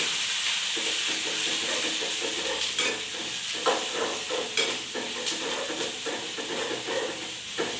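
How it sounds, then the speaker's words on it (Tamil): Onion, garlic and spice powder sautéing in a pan, a steady close sizzle with scraping stir strokes every second or so, no talking. "இப்போ வெங்காயம் போட்டுக்கலாங்க. பூண்டு போட்டுக்கலாங்க. தூள் போட்டுக்கலாங்க. நல்லா வணக்கிக்கலாங்க."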